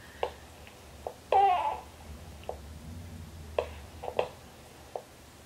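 Faint, scattered baby babbling with soft short vocal sounds and a brief squeal, quiet and intermittent against a low background hum.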